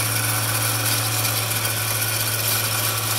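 An MX-210V 8x16 metal lathe takes a light half-millimeter cut, giving a steady, loud mechanical whir with a constant tonal hum and fine grinding texture, running unbroken and close.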